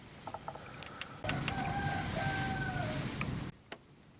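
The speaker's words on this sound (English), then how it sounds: "there would have to be a flippin' cockerel right in the next field" A rooster crows from a nearby field in a long, drawn-out call over a steady background hum, with a few faint clicks before and after.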